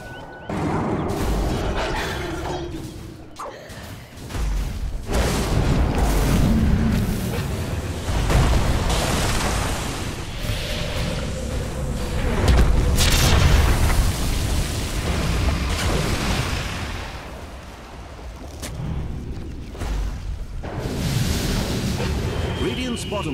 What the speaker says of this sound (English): Radiant's bottom tower is being attacked.